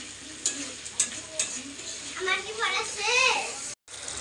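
Chicken frying in hot oil for a spicy chicken kosha, with oil spattering and crackling in short bursts and a steady sizzle building up, while voices murmur faintly in the background.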